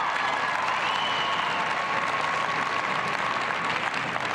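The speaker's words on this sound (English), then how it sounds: "You can hear the crowd responding" Audience at the 1996 Westminster Kennel Club Dog Show clapping during the herding group judging, a dense, steady wash of applause from a large indoor crowd, fairly loud and unbroken throughout.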